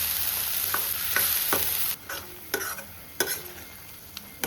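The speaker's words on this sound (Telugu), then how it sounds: "ఈ టమాటా పచ్చివాసన పోయేంత వరకు ఫ్రై చేసుకుందాం." Tomato paste frying in a pan for chole curry, a soft hiss broken by several sharp scraping stirs of a spoon, close and clear with no talking.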